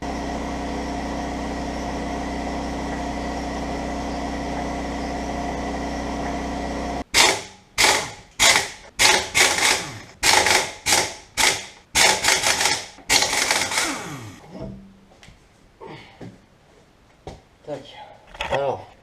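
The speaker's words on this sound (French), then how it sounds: "Je vais aller allumer le compresseur aussi pour sortir la péteuse." An air compressor drones steadily, then a pneumatic impact wrench fires a string of loud, sharp rattling bursts while the wheels come off a 2006 Dodge Charger SRT8 in a garage, followed by clanks and a voice talking.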